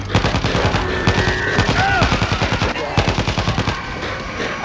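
Automatic gunfire in the zombie shooter World War Z on Nintendo Switch, rapid rhythmic bursts of shots in quick succession, loud and close, broken by a short pause before firing resumes.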